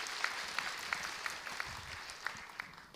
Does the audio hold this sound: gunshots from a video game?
no